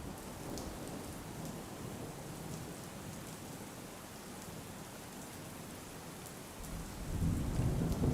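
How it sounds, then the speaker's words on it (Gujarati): Heavy monsoon rain pours steadily over rural Valsad district in Gujarat, with a continuous loud hiss and a deep rolling thunder rumble that swells near the end. No voices. "વલસાડ જિલ્લામાં વરસાદી વાતાવરણ. ધરમપુર અને કપરાડા પંથકમાં પણ વરસાદ નોંધાયો છે."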